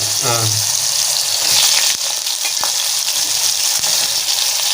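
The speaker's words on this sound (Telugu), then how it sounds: "స్టార్ట్ చేసిన సొరకాయ ముక్కలు వేసేసుకుంటుంది" Bottle gourd pieces drop into hot oil in a home kitchen and set off a steady, close sizzle that continues throughout, with brief clinks of a utensil and a voice speaking over it.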